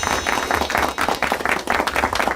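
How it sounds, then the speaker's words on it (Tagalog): Loud applause from a seminar audience at a GPTT network talk, dense clapping in rhythmic surges that fills the whole clip without a voice over it. "Palakpak ng malakas."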